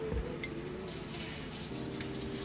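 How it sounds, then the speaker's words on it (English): Water streams steadily from a tap into a pot of beef stew, a soft, continuous gushing splash heard close and alone. "So I go up to 6 quarts with my water."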